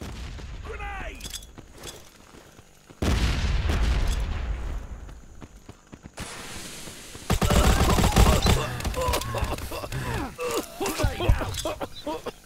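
Modern Ops mobile shooter combat with a grenade going off amid gunfire, heavy booming bursts and rapid shots in two loud waves, with voices shouting over the action.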